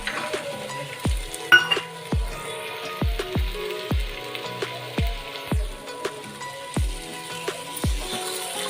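Green peas tumble into a pan of sizzling chicken keema masala, giving a soft steady sizzle punctuated by repeated low knocks from stirring or tapping at an uneven rhythm, close and moderately loud with no talk.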